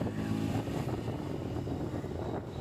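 A group of about six KTM motorcycles rides together on a country road, heard as a continuous low engine drone mixed with strong wind rush at the microphone.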